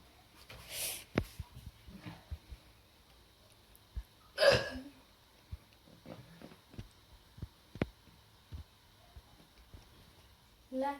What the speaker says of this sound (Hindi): हम दोनों को भी बहुत हिचकी आ रही है आज